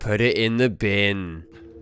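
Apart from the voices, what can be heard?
No distinct noise like a dog, phone or traffic.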